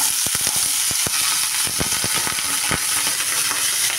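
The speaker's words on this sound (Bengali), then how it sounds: "আলুটা একটু ভাজা ভাজা করব।" Potato pieces fry with black cumin seeds in hot oil, a loud close sizzle full of rapid popping crackles and spatters throughout, no voices.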